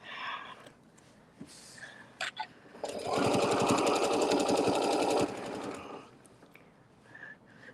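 A sewing machine stitches in reverse while making a quilted table topper; a steady rapid mechanical whir of stitching for about two seconds, loud and close, framed by quieter handling noise and a few clicks before and after.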